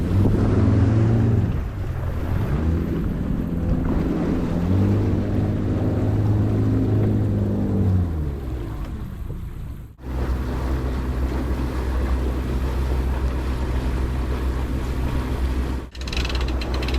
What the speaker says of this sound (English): the boat's going in the water